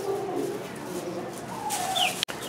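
A few high, thin chirps from baby chicks at a zoo, brief and scattered over low background noise, with a sharp knock near the end.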